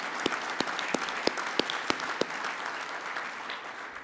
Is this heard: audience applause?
yes